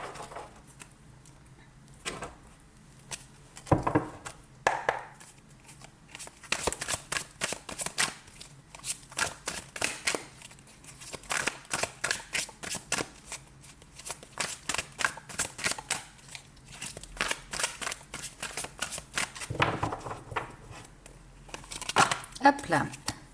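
A deck of tarot cards is shuffled by hand close up during a French reading, in repeated quick riffling bursts of crisp flicking that come in rhythmic clusters between stretches of talking.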